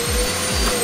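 Steady vacuum cleaner whine used as a sound effect, a constant loud motor drone with a high tonal hum and low rumbling pulses, heard alone without any talking.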